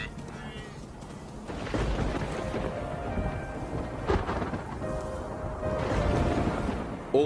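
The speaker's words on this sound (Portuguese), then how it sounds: "Temporais são uma ocorrência quase diária nas estações úmidas" Rain falls in a steady wash during a wet-season thunderstorm on the wildebeest plains, with deep rolling thunder building and cracking through the downpour across the whole stretch.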